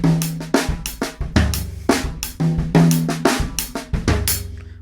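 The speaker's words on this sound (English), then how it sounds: "Play me a basic songo," A drum kit plays a basic linear songo groove, close and loud, with crisp, evenly spaced hits that alternate between drums and cymbals in a steady, syncopated repeating pattern and no talking.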